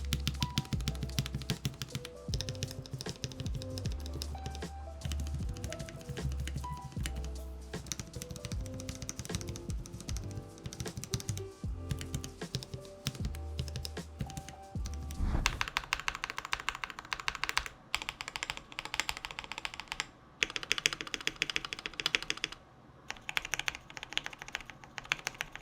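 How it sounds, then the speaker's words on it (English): Typing on a mechanical keyboard with lubed stabilizers, a dense run of close clacks and thocks from keystrokes and longer keys, irregular rhythm, continuing steadily for about half a minute with no talking. "go ahead and test your stabilizers and see how they sound"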